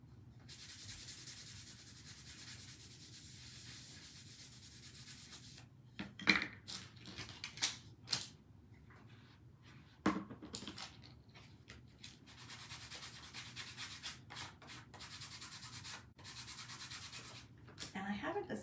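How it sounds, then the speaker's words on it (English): Light wax is rubbed by hand over a transfer on an upcycled fall decor piece, making a steady, close scrubbing hiss broken midway by a few brief knocks and pauses before the rubbing resumes. "we highly suggest you wax it, just a light layer, just to protect your transfer"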